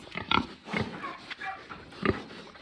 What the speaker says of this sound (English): here are the stinky pigs. You might hear them make noises.